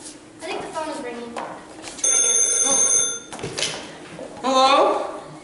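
A telephone rings once with a bright electronic trill, lasting about a second, between stretches of people talking in a stage comedy scene.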